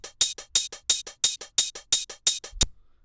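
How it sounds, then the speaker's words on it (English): Two layered hi-hats in a dark drum and bass groove: a fast, crisp, rolling pattern of bright ticking hits alternating loud and soft accents, close and dry, ending on a single low thud. "So let's listen to that with the 2 main hats."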